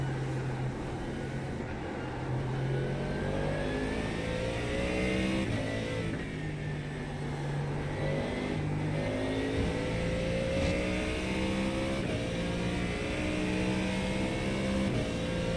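Race car engines roar through a racing video game at Spa, continuous loud revving with rising and falling gear-shift sweeps as cars chase each other on track.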